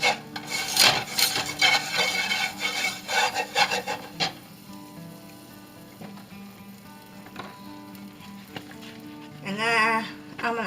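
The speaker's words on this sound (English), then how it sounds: "add 2 tablespoons of butter and 2 tablespoons of flour, and you want to whisk this together" Butter and flour being whisked together in a pan, with close rhythmic scraping and rasping strokes that come in bursts and fade to quieter stirring before picking up again.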